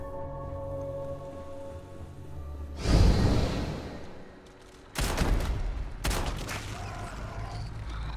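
Several loud bursts of rapid gunfire in the video game Starfield erupt in quick clusters, crackling harshly with short pauses between volleys, over a low steady hum.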